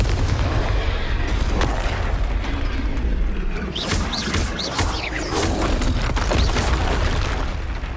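Confringo fire spell blasts in Hogwarts Legacy gameplay, a dense roar of booming explosions and crackling bursts that never lets up, with sharp rising whooshes cutting through the middle.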